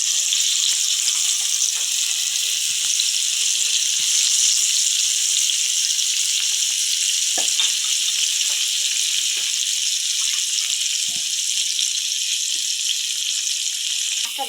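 Pieces of fish sizzle in hot oil in a pan, a continuous, even frying hiss with faint crackles that runs unbroken from start to finish with no voices over it.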